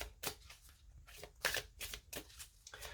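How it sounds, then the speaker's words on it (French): Tarot cards are shuffled by hand in quick bursts of riffling and snapping, five or six crisp flurries separated by short pauses, close and fairly quiet, with no speech. "Pendant que je mélange les cartes,"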